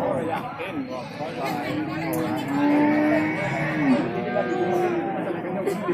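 Cattle low with a long, drawn-out moo and a shorter call at a busy livestock market in Bumiayu, heard close amid a background of crowd chatter and voices.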